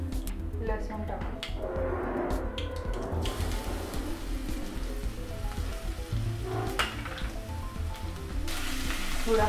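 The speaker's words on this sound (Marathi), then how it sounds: "थोडा फ्राय करून घेऊ लसूण" Garlic frying in hot oil in a pan after mustard seeds and cumin for a vegetable tempering, a steady close sizzle running throughout with bursts of crackling spatter.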